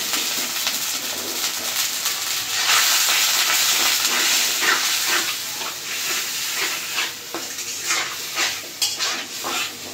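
Spice paste of cumin powder, salt and ginger-garlic paste sizzling and being stirred in a pan for a village-style fish curry, a steady loud frying hiss with scraping stirs throughout, close and without talk.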